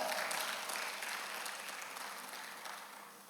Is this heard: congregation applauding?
yes